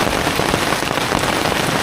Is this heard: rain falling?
yes